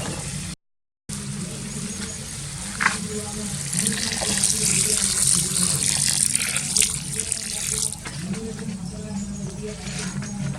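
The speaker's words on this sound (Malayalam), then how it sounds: "കുറച്ച് വെള്ളം ചേർത്ത് കൊടുക്കുക" Water runs and splashes into a pan of rabbit roast for several seconds, steady and close, with faint kitchen clatter and muffled voices in the background.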